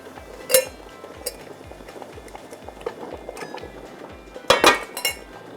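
Metal lid lifted off a tin used for steaming an orange cake in a kitchen, giving two bright clinks, one early and a louder double clink near the end, over a soft steady rhythmic background hum.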